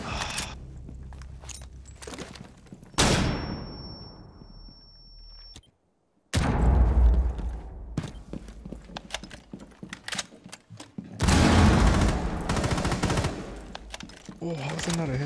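Bursts of automatic gunfire and single shots in the video game Rainbow Six Siege, loud and close, broken by short gaps and a brief silence, with footstep-like clatter between volleys.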